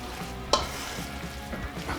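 A spoon stirs a Rice A Roni bake mixture in a pan, soft close scraping and squelching with a single sharp clink against the side, and no talking.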